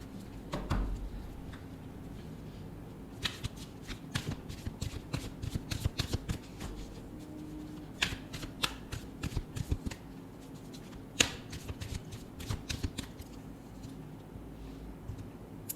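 A tarot card deck being shuffled by hand, quiet close riffling and flicking of cards in irregular bursts with soft taps between, no voices.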